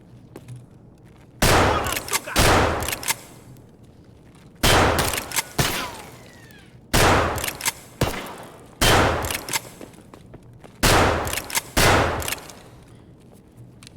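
Shotgun fire in the video game Escape from Tarkov: six loud, separated bursts of blasts, each a sharp shot or pair of shots with a trailing echo, spaced about two seconds apart over a quiet background.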